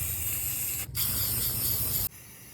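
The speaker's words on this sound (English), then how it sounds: "now we'll paint with this Rust-Oleum Real Orange Gloss" Rust-Oleum Real Orange Gloss spray paint hissing steadily from a can onto a minibike, a close continuous spray with one brief break partway through before it stops.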